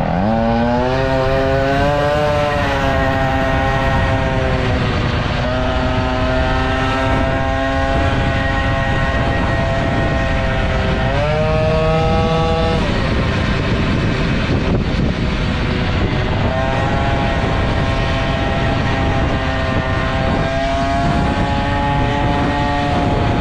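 Two-stroke Peugeot 103 moped engine fitted with an internal rotor ignition and Airsal 65 air-cooled kit, revving up and down repeatedly with rising and falling buzzy pitch, loud and close throughout with no talk.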